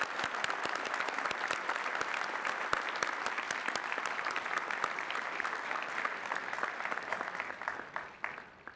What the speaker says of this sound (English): Please, everyone, recognize the Doctors of Philosophy with our hearty congratulations and applause.